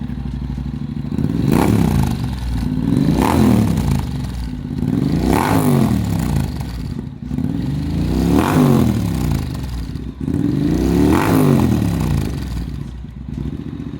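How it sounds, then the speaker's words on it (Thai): A Honda Forza 750 scooter fitted with a Yoshimura full-system exhaust revs repeatedly in five loud, rising and falling bursts over a steady idle rumble, close by, with no talking. "อ่าเดี๋ยวไปลองฟังเสียง Full System ของโยชิมุระที่ใส่อยู่ใน New Forza 750 กัน"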